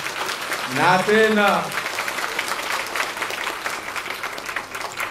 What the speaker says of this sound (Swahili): Hayo makofi kiduchu kwa mawakala.